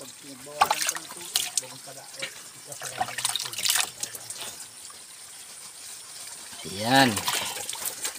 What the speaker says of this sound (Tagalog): Tuloy-tuloy yung dali ng tubig.